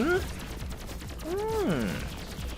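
Rapid bursts of gunfire in the PC shooter game Pathogenic, crackling steadily throughout, with a man's loud exclamations rising over them.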